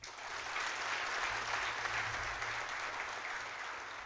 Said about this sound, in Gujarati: આપણે એમને માટે તાળીઓ પાડીએ